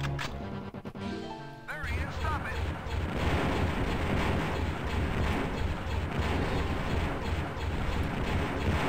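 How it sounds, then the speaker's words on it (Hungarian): A Dark Trooper enemy fires at the player in the video game Star Wars: Dark Forces (DarkXL mod). Heavy blaster shots and blasts boom in a rapid, dense barrage, loud and sustained after a brief quieter opening. "Jaj, mindig sikerül belemennem a rohadt lövésébe."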